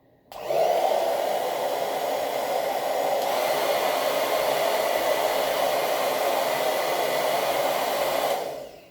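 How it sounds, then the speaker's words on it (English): A hair dryer on medium heat switches on and blows with a steady, even whir for several seconds, then cuts off; no voices. "I'm going to use my blow dryer on medium heat"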